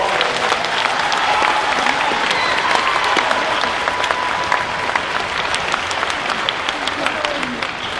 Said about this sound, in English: Go give her a applause.